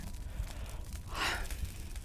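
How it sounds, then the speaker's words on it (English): A single person's yawn, a soft breathy swell rising and fading in the middle over quiet background. "I need to yawn."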